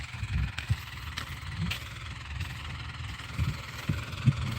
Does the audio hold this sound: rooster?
no